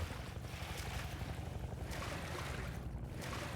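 A character running through water in Half-Life 2, heard as a continuous loud rushing, splashing wash of water that stays steady from start to end.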